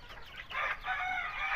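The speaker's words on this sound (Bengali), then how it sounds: "এখানে টোটাল আপনার 53টা মুরগি আছে, এর মধ্যে 15টা হচ্ছে 8টা 7টা হচ্ছে পুলিশ ক্যাপ, 8টা কাদাকনাথ, আর বাকি সবগুলো ফার্মিং।" A rooftop garden flock of mixed hens, including Police Cap, Kadaknath and farm breeds, clucks and squawks nearby in short overlapping bursts that build into continuous calling.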